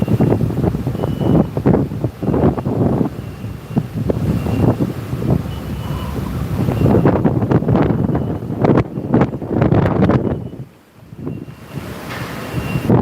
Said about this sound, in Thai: ตกพายุลมแรงมากครับ